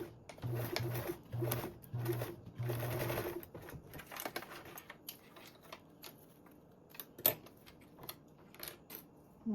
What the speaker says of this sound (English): Now we can sew these with a 3/8 seam allowance.